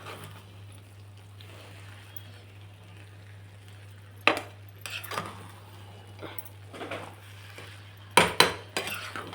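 Potato rice pulao gets turned over in a pot with a metal spoon: a few sharp clinks and scrapes against the pot's side stand out over a steady low hum, arriving in two short clusters.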